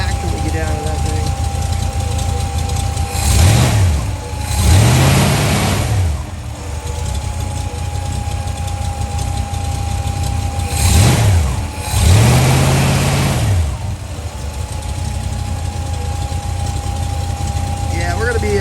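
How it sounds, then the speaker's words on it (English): A turbocharged show car engine idling at a car show, then revving twice in repeated bursts that rise and fall, loud and close, with people talking over the engine noise. "I'll go ahead and rev it up and see what kind of action we get out of that thing"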